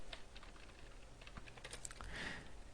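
A computer keyboard clatters with quick, uneven keystrokes as C code is typed, very faint and close, with a brief louder burst near the end.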